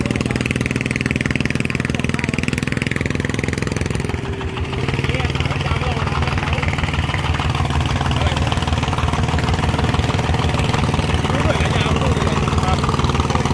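A farm tractor working a flooded rice paddy runs loud and close, a steady rumbling engine drone that dips briefly and shifts pitch partway through before droning on, with voices talking over it.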